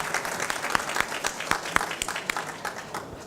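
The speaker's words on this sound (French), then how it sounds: "On peut peut-être les applaudir, oui, effectivement" Conference attendees at a round table on virtual reality in tourism applaud the speakers, a steady wash of many hands clapping with a few sharper claps standing out, moderately distant and sustained.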